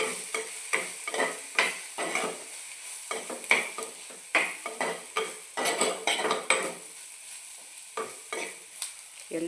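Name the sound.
stirring fish pieces into salai fish puttu mixture in pan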